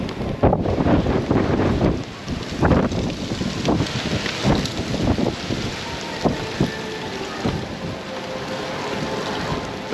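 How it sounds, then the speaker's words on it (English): Strong gusty wind buffets the microphone outdoors at Epcot ahead of a hurricane, roaring loudly and continuously with surging gusts and no talk. "it has been windy"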